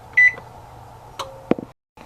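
An oven control panel being set to 350 gives a short electronic beep, then a few soft button clicks and taps in a quiet kitchen.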